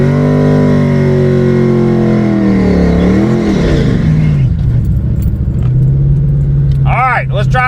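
Motorcycle with a new clutch revving loudly close by, its engine pitch climbing and then dropping as it shifts through gears, continuous and dominant throughout.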